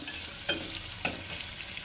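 A soft, low sizzle of onion frying in oil in a pressure cooker, with two sharp metallic clicks, like a spoon tapping the pot, heard close and quiet.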